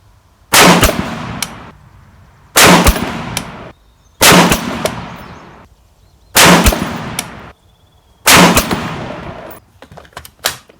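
Five sharp rifle shots from a Rock River Arms 20-inch varmint rifle at a 100-yard range, evenly spaced about two seconds apart, each loud crack trailing into a short decaying echo.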